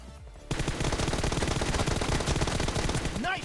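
In the video game PUBG Mobile, a burst of automatic gunfire erupts after a brief quiet moment and keeps up a rapid, steady stream of loud shots until the end, with a faint whooshing effect near the close.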